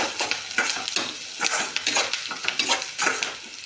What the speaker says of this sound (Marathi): त्याला परत छान असं परतून घ्यायचं